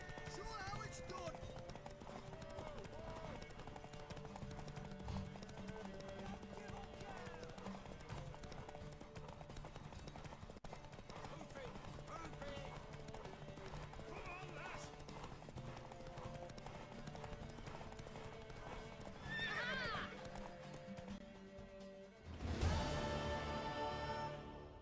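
Horse hooves clip-clop steadily through a long stretch of The Witcher 3, joined near the end by a louder burst of neighing, with voices talking over the sounds.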